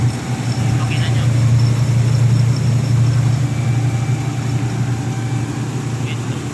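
A rice milling machine engine drones steadily and loudly, a constant low hum filling the whole stretch with no change in rhythm.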